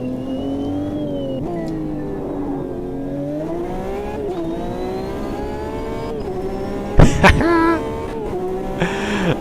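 A Porsche 911 RSR race car engine in the racing game Automobilista 2 drones loudly and steadily, its pitch rising through the gears with brief shift dips, a sharp burst near the end, and faint talk underneath.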